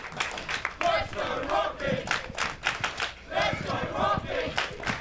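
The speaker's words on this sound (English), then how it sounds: "The crowd alive" Wrestling fans cheer and yell in bursts around the ring, their rhythmic shouts rising and falling between louder swells, with a few claps mixed into the crowd noise.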